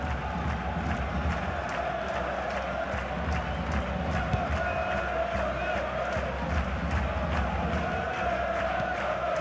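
A large stadium crowd in the FIFA 21 video game roars steadily during a Champion League match between Dynamo Kyiv and Juventus, a constant dense wash of cheering with rhythmic chanting and claps throughout.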